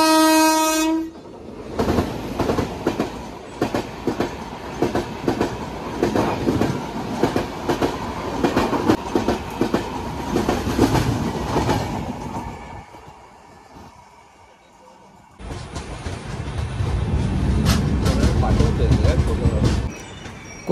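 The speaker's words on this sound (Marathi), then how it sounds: "आता बघू कुठची ट्रेन येते क्रॉसिंगला" A Konkan Railway train passes a level crossing during the monsoon. A loud horn blast opens, followed by a long run of rhythmic wheel clatter from the passing coaches, a brief lull, then a second loud rumbling surge.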